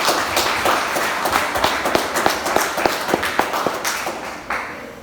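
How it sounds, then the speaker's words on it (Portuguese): A church congregation at a Pentecostal worship service clapping together, loud and close, with crisp individual claps standing out from a dense, continuous wash of applause. "Irmãos, você pode aplaudir ao Senhor Jesus?"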